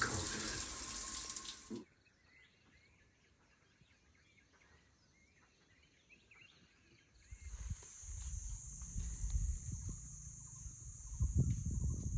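A basic campsite shower in Khao Yai National Park, Thailand, runs freezing water. A loud gush cuts off abruptly, leaving quiet insect chirps, then water runs again more softly alongside a steady high insect drone.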